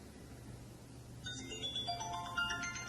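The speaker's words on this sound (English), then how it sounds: "Can I answer the phone?" A phone rings in a quiet room during a detective's interview, its tonal electronic ringing starting partway through and repeating over low background hum.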